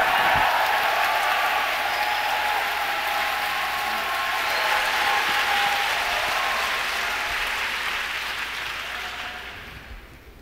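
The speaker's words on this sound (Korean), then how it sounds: "우리 목사님 나오실 때 박수치고 소리치고 큰 소리로 환영하도록 하겠습니다." A church audience applauds and cheers to welcome a pastor at a prayer meeting, a dense, loud wash of clapping that holds steady for several seconds and then fades away toward the end.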